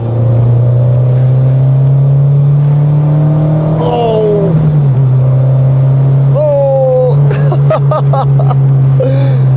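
A tuned Peugeot 205 GTI engine idles with a steady low drone, then revs up sharply several times, rising whines climbing and falling, loud and close.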